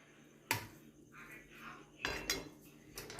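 A metal spoon scrapes and clinks against a plate while upma is served. Two sharp knocks stand out, with softer scraping between them, close and quiet, and no talking.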